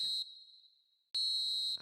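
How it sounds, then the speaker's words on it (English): A referee's shrill final whistle in a football video game sounds as two loud blasts, a short one and then a longer sustained one, with a faint tone lingering between them and no talk. "And there goes the final whistle."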